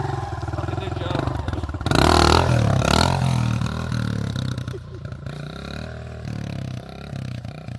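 Motocross bike on a UK motocross track, engine revving hard as the rider pulls a wheelie, a loud rising roar that surges after a rougher idle-like burble, then settles into a fluctuating drone.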